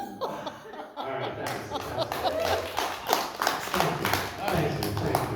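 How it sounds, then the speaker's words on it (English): Audience at a comedy-for-the-blind show in Glendale, CA, clapping in scattered, uneven bursts mixed with laughter and a voice talking over it, fairly close and building toward the end. "I saw a blind person clapping."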